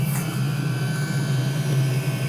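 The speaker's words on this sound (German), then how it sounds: "Die Heizung funktioniert also, wie sie soll. Ist bloß ganz schön laut, das Teil." A loud, steady mechanical roar with a deep hum and a high whine from a diesel heater running close by on a boat, unbroken and without speech.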